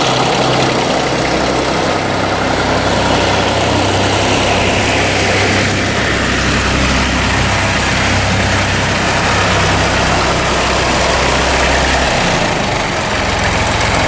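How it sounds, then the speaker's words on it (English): A heavy diesel tractor engine idles steadily and loudly, a continuous low rumble with no voices, holding the same throb throughout. "let's crack on with the tractor drive down to Reg's."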